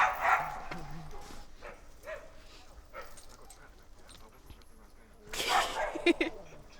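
Dogs in a snowy Alaskan setting, one of them half wolf, give a few short barks and whimpers, some near and some farther off, amid people talking.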